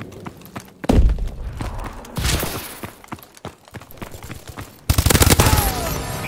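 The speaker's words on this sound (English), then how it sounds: "Suppressive fire." Gunfire from a BAL-27 rifle in Call of Duty: Advanced Warfare rattles out in several rapid automatic bursts separated by brief pauses. A loud, sustained volley closes the stretch.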